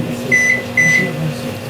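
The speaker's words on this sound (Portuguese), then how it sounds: "vamos colocar no micro-ondas" Microwave oven humming steadily with two short, bright beeps close together near the start, loud and close, no talking.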